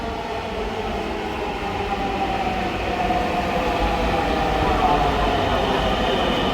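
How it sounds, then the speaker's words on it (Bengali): A train rolls into a station with a loud, continuous rumble and low mechanical drone that builds slightly over several seconds, heard up close from the platform. "এই যে চলে আসছে, আমরা যে ট্রেনটা যাবো।"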